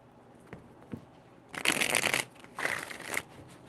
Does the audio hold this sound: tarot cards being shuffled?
yes